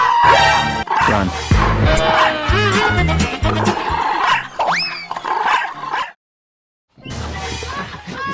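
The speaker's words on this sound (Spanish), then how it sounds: "¡Corre, que viene un perro así grande!" A large dog barks repeatedly and loudly, with yips and growling whimpers in a dense, busy burst, then a brief silence before more barking resumes.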